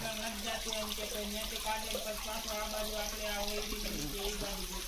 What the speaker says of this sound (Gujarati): એટલું એટલું પાણી આવે ભાઈ